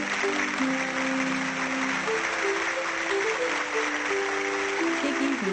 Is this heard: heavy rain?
no